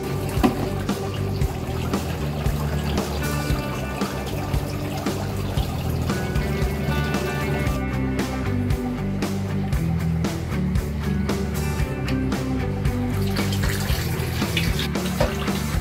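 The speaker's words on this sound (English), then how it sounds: "I've got the big pipe, and this is going to drain all the water out for us. It's going to go straight down the toilet." Pond water from an indoor shop pond drains through a big pipe into a toilet, a steady continuous rush and gurgle of flowing water that holds even and fairly loud throughout, with no voices.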